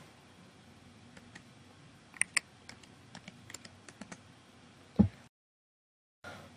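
Keys tapped on a computer keyboard to type a value into a field, a short run of light, irregular clicks with one louder click near the end, then a brief silence.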